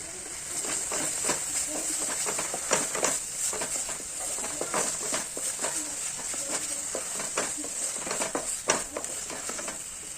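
Spices, red chili paste, turmeric and salt frying in a pan while being stirred, with a steady sizzle and hiss under repeated scraping strokes at an even pace.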